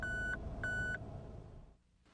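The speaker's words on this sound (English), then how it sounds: "the warning light will illuminate and a warning beep will sound" A Mazda RX-8 tire pressure warning sounds: two short, high electronic beeps in succession, fairly quiet, followed by a fading low hum.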